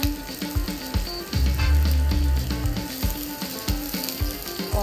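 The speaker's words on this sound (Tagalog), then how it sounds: "So we'll put the sibuyas, and then lagay na rin natin ang ating bawang." Onion and then garlic hitting hot oil in a pan, a loud steady sizzle with repeated knocks and scrapes of stirring throughout.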